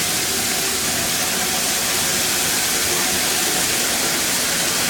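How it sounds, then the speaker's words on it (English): Steady rushing stream of tap water pouring into a sink, a constant broadband hiss with no break, close and fairly loud, no voices. "we'll go ahead and fill the sink up."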